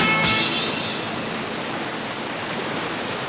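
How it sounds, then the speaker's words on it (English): Surging white water rapids just below the Paloona Dam in Tasmania make a loud, steady rushing roar that carries on without a break. "The surging rapids just below the Paloona Dam have provided a fun playground for the boys"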